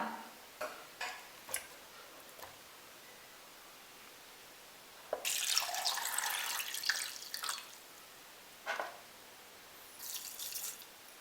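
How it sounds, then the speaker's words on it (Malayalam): Tender coconut water is poured into a mixer jar, a short gushing pour in the middle that stands out between scattered soft clicks and drips in a quiet kitchen. "അതും കരിക്കിൻ്റെ വെള്ളവും പഞ്ചസാരയും എല്ലാം കൂടെ ഒരു മിക്സിയുടെ ജാറിലേക്ക് ഇടാം."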